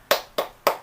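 Three sharp hand claps in a steady, evenly spaced rhythm during a children's chant about Surah Al-Fatihah, close and crisp with no talking over them.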